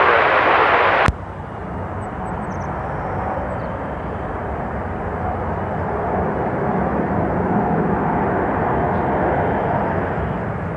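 An Alaska Airlines jet takes off from runway 34 right at Seattle-Tacoma International Airport, its steady broadband engine roar holding loud and constant after a brief burst of noise at the start.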